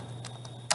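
Keystrokes on a computer keyboard during a Roblox basketball game, a few soft broadband clicks spread across a short moment and one sharper, louder tap near the end, over a steady low hum.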